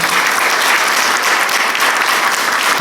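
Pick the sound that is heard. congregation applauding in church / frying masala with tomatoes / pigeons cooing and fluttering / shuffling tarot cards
congregation applauding in church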